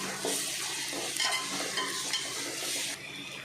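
Ginger paste is stirred into frying onions in a pan for a country chicken dish, with soft spatula scrapes over a steady, fairly quiet sizzle that drops away at the end.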